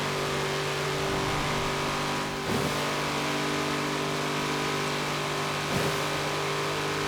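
A stock 2018 Chevrolet Camaro ZL1 in the racing game Forza Horizon 4 holds a loud, steady, sustained engine drone at speed, its tone dipping briefly twice as it shifts gears, with no talking.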